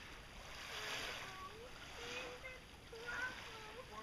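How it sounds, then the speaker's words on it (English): Ocean waves splash and wash against a beach in a steady, broad roar that swells and eases, close by, with children's voices heard faintly over the surf. "the waves are getting big"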